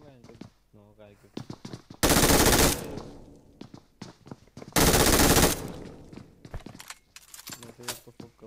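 Two loud, close bursts of automatic gunfire in a shooter video game, each lasting under a second, with someone talking in between and after them.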